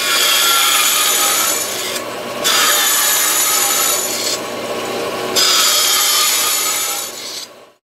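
A wooden support piece for a curtain rod is being cut and cleaned up with hand tools: steady, loud rasping strokes run continuously, broken by two brief pauses, with no talking.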